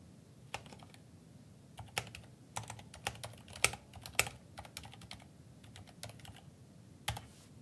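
Text typed on a computer keyboard into a workflow form, a sparse series of distinct, crisp key clicks with irregular gaps, close and fairly quiet against a low background hum.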